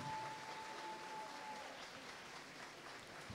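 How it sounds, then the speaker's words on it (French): An audience applauds at a cosplay contest, a quiet, distant, continuous patter of many hands, with a short sharper burst right at the end. "un tonnerre d'applaudissements"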